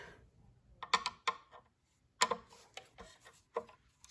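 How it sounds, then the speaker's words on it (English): Phillips head screws being backed out of the gas valve on a US Boiler Burnham Alpine high-efficiency boiler during annual service: a few sharp, close clicks and ratcheting ticks in uneven bursts, with quiet gaps between them. "you are going to disassemble the gas valve from the fan assembly by removing the 3 Phillips head screws"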